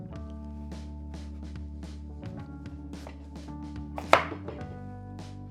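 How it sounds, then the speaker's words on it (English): A knife cuts off the end of a hard butternut squash on a cutting board, steady light taps building to one sharp, loud chop, all over a constant low electrical hum. "First, cut off the base to make it stable"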